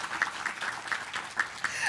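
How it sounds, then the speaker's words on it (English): Applause from an audience at a city State of the City address, a steady wash of clapping with a few louder bursts, lasting about two seconds. "we can have the applause"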